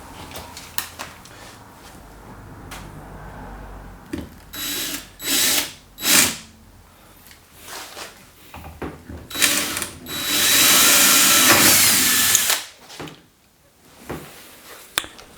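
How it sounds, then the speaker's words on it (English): A power drill bores through the fiberglass body panel of an Ultima RS kit car, giving several short whirring bursts followed by one longer, louder sustained run, close and alone with no talk. "Now when you're drilling through fiberglass, you just have to be particularly careful"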